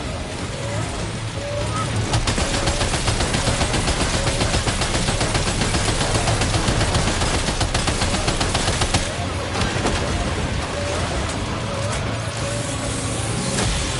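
Sustained automatic gunfire in the video game Death Stranding 2, dense rapid bursts running almost continuously with loud mechanical clatter, steady and close throughout.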